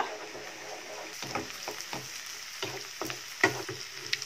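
Beaten egg scrambling in a pan over a medium flame with cabbage, giving a steady soft sizzle broken by short scraping stirs, close and moderately quiet with no talk.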